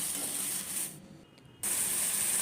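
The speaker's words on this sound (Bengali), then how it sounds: "এবার এর মধ্যে দিয়ে দিলাম টমেটো বাটা টমেটো বাটা মিনিট দুয়েক নাড়াচাড়া করে নিচ্ছি" Tomato paste sizzling in a hot pan while being stirred for a Bengali paneer pasanda, a steady broadband hiss that dips briefly in the middle before returning at full strength.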